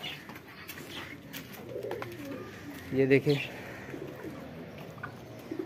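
Pigeons coo softly in a short burst of low, throaty calls amid outdoor ambience, with a person speaking briefly nearby.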